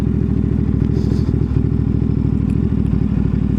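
Ducati Multistrada V2 (2023) motorcycle easing away on the clutch without throttle, a steady, loud, close low-rev engine thrum with a mechanical clatter and no talking.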